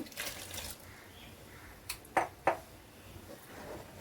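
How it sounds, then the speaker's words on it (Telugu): Water splashes briefly into a pot of ulavacharu chicken biryani, a couple of quick pours with soft spattering, fairly quiet against a hushed background. "ఇందులో కొంచెం వాటర్ పోసుకుందాం అండి"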